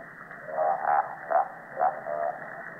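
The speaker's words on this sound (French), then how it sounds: "C'est celui-là, qu'on a déjà entendu, c'est le crapaud." A toad croaks in an underwater pond-like soundscape, four or five low, rounded calls repeating at roughly half-second intervals over a muffled, band-limited background, close and alone.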